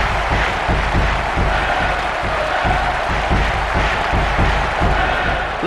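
A dense stadium crowd in the video game ISS 98 on N64 roars and cheers continuously after a goal, loud and steady throughout.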